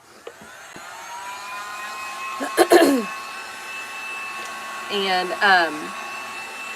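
A hair dryer runs steadily to dry the first coat of paint on the blades of a DIY patriotic windmill, a continuous whirring hum that holds throughout, with a brief spoken word near the start.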